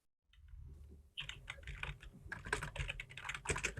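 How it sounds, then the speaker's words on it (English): A song name is tapped out on a computer keyboard in a quick, close run of light key clicks that grows denser toward the end, with no talking. "if I go to YouTube and I type in the name of the song"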